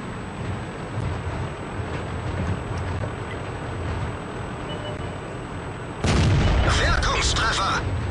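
A shell from a Conqueror Gun Carriage artillery piece slams into a tank in a World of Tanks battle, a sudden loud broadband impact at about six seconds that rumbles on after a stretch of steady engine and battle noise.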